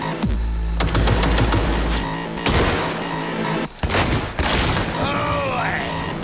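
Rapid gunfire bursts from the video game Cyberpunk 2077, loud and dense with booming impacts, mixed with game sound effects and music throughout.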